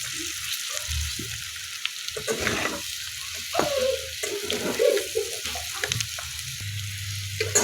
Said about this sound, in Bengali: তো চিকেনটা লাল লাল করে ভেজে নিব